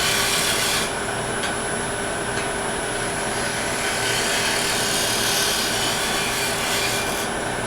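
Sandpaper rubbing against a wooden wall plaque spinning on a wood lathe, a loud, continuous rasping hiss over the steady hum of the machine, with no pauses.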